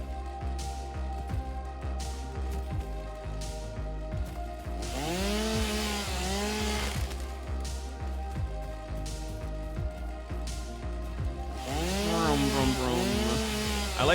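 A chainsaw felling trees in the video game Satisfactory: a buzzing motor drone that revs up in swelling bursts, close and steady, with other game sounds layered over the cutting.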